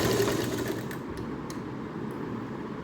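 A sewing machine stitches blouse fabric for a coin purse with a close, steady mechanical whir, then slows near the end; no one talks.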